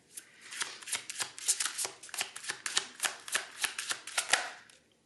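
A deck of tarot cards is shuffled close up in a quick series of crisp riffling bursts, steady and rhythmic, with no talking.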